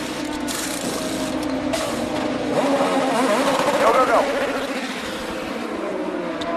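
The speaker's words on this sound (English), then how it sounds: "See, when the car leaves the pit lane there, the front wing is vibrating." IndyCar race car pulling out of the pit lane at St. Petersburg, its engine droning steadily and rising in pitch midway under loud, continuous crowd and track noise, with people shouting over it.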